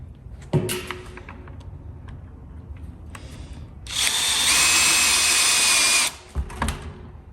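A power drill drives a fastener down into a scrap barrel in a workshop, with a loud whirring burst lasting about two seconds. Quieter taps and handling noises come before and after it.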